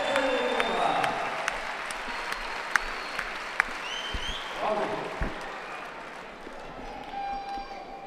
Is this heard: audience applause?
yes